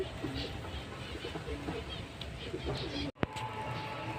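Pigeons coo softly and repeatedly at close range, with faint background noise and a sharp brief knock near the end.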